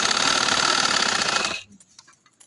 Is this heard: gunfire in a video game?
no